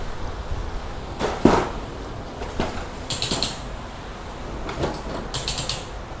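The rear of a lowered car with modified suspension is pushed down several times, giving short scattered creaks and clicks of the suspension and body, each faint to moderate with quiet gaps between them.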